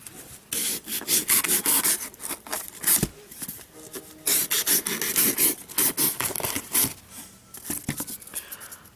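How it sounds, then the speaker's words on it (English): Kershaw steel knife blade slicing through cardboard into strips: repeated scratchy, rasping strokes in bursts with brief pauses between, close and fairly loud. "we'll start with the Kershaw, and we'll just give 5 good cuts right through this cardboard."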